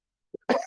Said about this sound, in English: I will apologize in advance for coughing through the class.